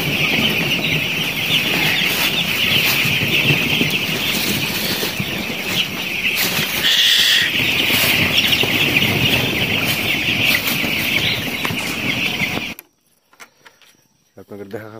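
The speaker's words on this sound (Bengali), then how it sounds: "মুরগির বাচ্চা।" A flock of six-day-old broiler chicks, some unwell from cold weather, peep in a dense, steady chorus at evening under a red brooder lamp, with a voice talking over them before the sound cuts off abruptly.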